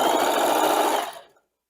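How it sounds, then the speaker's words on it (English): A sewing machine stitches ribbon trim onto tulle with a steady, close mechanical whir that runs for about a second before stopping abruptly into silence. "just going to sew it down and slide it underneath the tulle and place it on top of that first ribbon"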